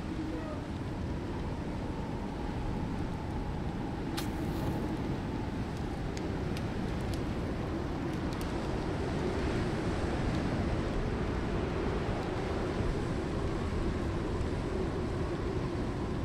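Steady wind howling across an open-world survival landscape in the game Icarus, a constant low roaring rush that stays even and moderately loud, with a few faint clicks partway through.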